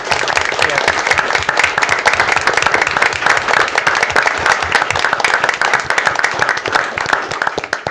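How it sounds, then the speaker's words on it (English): A council meeting audience claps for Youth Commission members, producing loud, dense applause with sharp individual claps that continues steadily for several seconds. "how about a big applause for those taking the"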